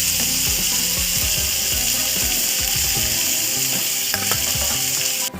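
Bhola fish fry in a kadai with a loud, steady, crackling sizzle, mixed with dense metallic clatter and scraping throughout. The sound cuts off abruptly at the end, and no voices are heard.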